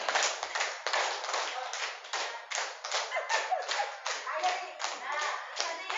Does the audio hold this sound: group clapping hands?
yes